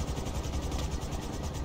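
Helicopter in GTA 5 flying into a building, its rotor and engine making a steady, loud, low droning whir that holds throughout.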